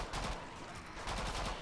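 Burst-fire gun shots from a medic's weapon in Killing Floor 2, a zombie co-op shooter: rapid clusters of sharp cracks that repeat quickly over a short span, fairly loud with no talk.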